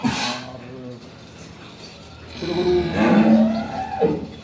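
A high-quality dairy cow lets out a long, deep moo close by at a dairy farm, with a brief voice at the start and low background noise.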